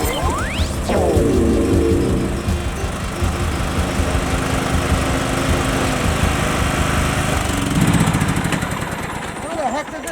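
A Toro Time Master lawn mower engine drones steadily and loudly while cutting grass, holding a continuous rough roar throughout, with voices talking over it.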